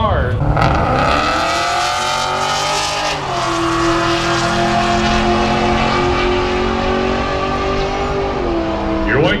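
Race cars, a white Camaro and a Mitsubishi, roar at full throttle during a Powercruise USA 2017 roll race in a street-racing event. The loud, continuous engine noise rises and falls in pitch as they shift and pull, with an announcer talking over it.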